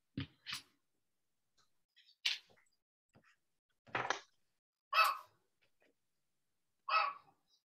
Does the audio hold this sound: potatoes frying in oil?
no